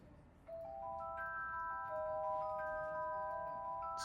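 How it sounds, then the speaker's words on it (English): A downloaded theme music file with a magical, Harry Potter-like feel, bright sustained bell-like tones entering one after another and layering into a soft, quiet chord over a faint hiss. "It's kind of a Harry Potter-esque kind of a theme."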